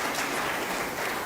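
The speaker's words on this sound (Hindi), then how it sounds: "आजीविका मिशन की बहनों का तालियां बजा के स्वागत करें" Crowd applause welcoming self-help group women at a public address in Bhopal, a dense, even wash of clapping from many hands, loud and continuous throughout the brief stretch.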